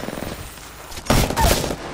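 Spitfire machine gun in Apex Legends fires a short, loud burst of rapid shots after a quieter moment of game sound.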